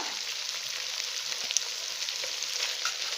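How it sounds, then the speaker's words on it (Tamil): Chopped mint and coriander sauté in a pan for paneer biryani, giving a continuous bright sizzle with small pops and no talking. "நல்லா இது பச்சை ஸ்மெல் போக ஒரு 2 நிமிஷம் நல்லா வதங்கட்டும்."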